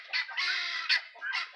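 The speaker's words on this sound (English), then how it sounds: "I got the guinea going, I got the chickens going, sometimes the geese chime in" Loud, close chickens and guinea fowl squawk and cackle in quick bursts, a noisy flurry of clucking with one sustained raspy cry in the middle.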